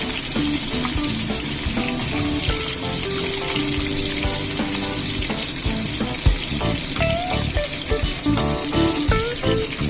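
Parshe fish frying in hot oil, a steady dense sizzle that stays loud and continuous throughout, with no talking over it.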